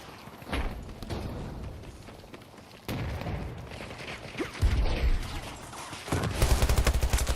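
Bursts of video game gunfire in a first-person multiplayer shooter, rapid volleys arriving in several clusters that grow louder and denser toward the end, with no voices over them.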